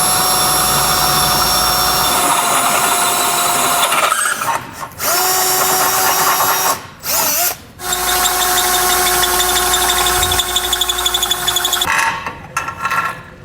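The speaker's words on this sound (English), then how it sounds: "Now I'm going to start enlarging these holes" A power drill enlarges holes for a tow base plate on a 2022 Chevrolet, running loud and close with a steady whine, briefly stopping twice in the middle before continuing.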